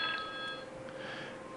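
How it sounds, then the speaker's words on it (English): Telephone ringing with an incoming call during a radio show, a short electronic ring tone with steady tonal pulses over a faint hiss, alone with no talking. "We got a phone call."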